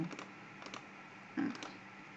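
Name and email typed on a computer keyboard: a few soft, scattered key clicks in short clusters, quiet and close, with one slightly louder tap near the middle and no talking.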